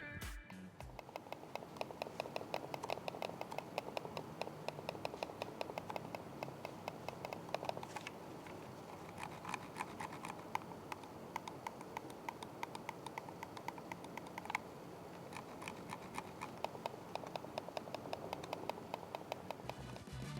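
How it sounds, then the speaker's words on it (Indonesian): Rapid, crisp mouse clicks tick continuously and close up, a dense irregular clatter with no talking. "kasih contoh feedback suara dari mouse ini"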